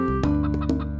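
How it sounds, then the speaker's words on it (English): A domestic hen clucks a few short, throaty notes close by, alone and fairly loud. "It is a hen."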